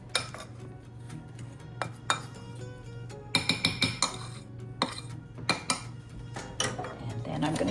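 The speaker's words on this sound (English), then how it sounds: "I'm going to break this up a little bit with a fork. Stir that up a little bit." A fork clinks and scrapes against a bowl while breaking up and stirring a chocolate chip cookie mixture, with irregular sharp taps and bursts of rapid clicking under a low steady hum.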